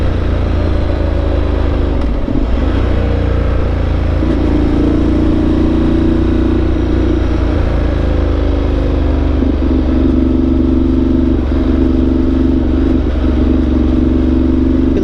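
A Ducati motorcycle's engine drones loud and steady while being ridden, with a low rumble and a mid tone that rises and falls across the run, and no talking.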